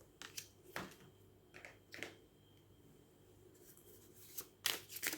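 Tarot cards are shuffled in a quiet room, giving several brief papery riffles and taps with pauses between them.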